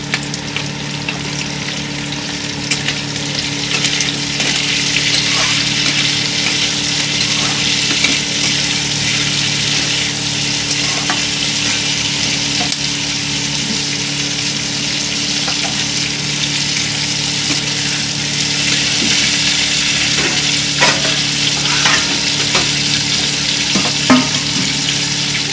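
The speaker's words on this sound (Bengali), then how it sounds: "এখানে হালকা করে সবজিটা ভেজে নিয়েছি।" Vegetables for malai onion sabji fry in a pan with a steady, dense sizzle and faint crackles and stirring scrapes, close and loud, lasting unbroken for a long stretch with no speech.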